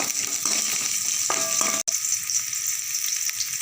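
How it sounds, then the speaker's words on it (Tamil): Chopped onion, three green chilies and two sprigs of curry leaves fry in hot oil, giving a steady close sizzle that cuts out briefly in the middle and then carries on. "பச்சை மிளகா 3, கருவேப்பிலை 2 கொத்து. நல்லா பொரியட்டும்."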